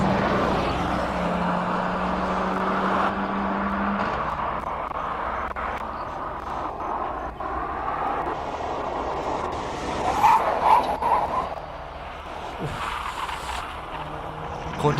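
A race car powers up the Simola hillclimb course in a King of the Hill final, its tyres worked hard, giving a steady, continuous engine roar that swells briefly toward the end.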